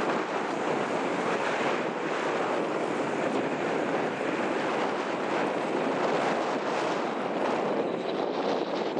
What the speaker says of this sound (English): It's a bit gusty.